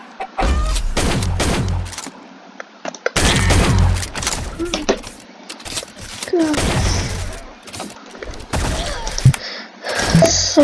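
In the online egg-shooter game Shell Shockers, bursts of loud gunfire with sharp blasts and crackling volleys recur in clusters.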